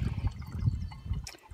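Slightly yellowish water trickles from a natural water source on a backcountry hiking trip in the Narrow Hills, a steady low gurgling flow running close by throughout.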